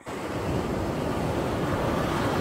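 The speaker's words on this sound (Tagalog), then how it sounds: "dagat na humahampas sa buhangin" Atlantic Ocean waves crash onto the sand at a beach in Albufeira, Portugal, a continuous loud roar of surf with wind rushing across the microphone and no voices.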